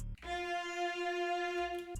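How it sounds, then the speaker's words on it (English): An SRX Orchestra plugin preset called 3 shallows holds one steady, bright, harmonic-rich sustained tone for nearly two seconds. It is clear and alone, with a brief soft onset and a cutoff at the end. "So next sound I have is the SRX Orchestra plugin with the 14th preset 3"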